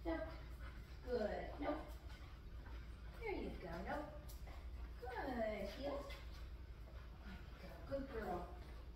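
A dog whimpers and whines in high, rising and falling yelps during heel training on leash, several drawn-out cries spaced a couple of seconds apart over a low steady background hum.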